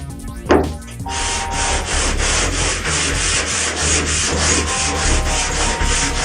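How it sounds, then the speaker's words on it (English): Steady back-and-forth hand block sanding rasps on the bodywork of a 1974 Chevy Nova in a regular rhythm, close and loud, after a brief scrape at the start. "so that I always have a cutting surface so that I can continue sanding"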